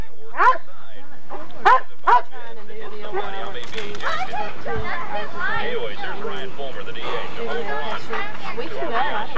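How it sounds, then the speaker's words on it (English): A dog gives a few sharp barks close by, then people talk over a busy, noisy background. "Shut up, dog."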